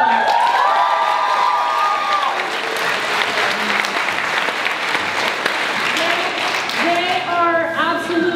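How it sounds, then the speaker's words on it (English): A crowd in a school cafeteria applauds loudly and continuously, with scattered cheers and shouts, while a voice speaks over the clapping at the start and end. "give them a round of applause"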